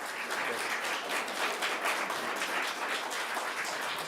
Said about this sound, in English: I just want everyone to give our two students a round of applause for coming and participating tonight